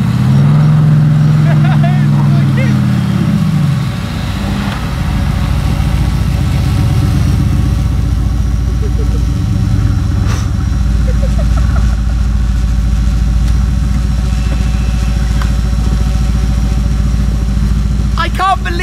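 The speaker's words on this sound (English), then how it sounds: "That's a little Panda 4x4 and it just pulled the GTR up the hill." Fiat Panda 4x4 hauling a Mercedes-AMG GT R up an icy hill by rope, its small engine droning close and steady after a brief louder strain at the start, with the low rumble continuing throughout.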